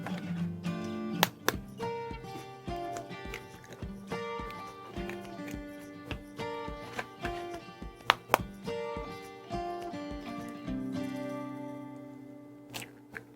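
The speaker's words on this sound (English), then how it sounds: "all we're going to do is break up 4 eggs into a mixing bowl" Four eggs cracked one after another into a mixing bowl, giving sharp shell taps and knocks spread over several seconds against a busy, tonal background with no one talking.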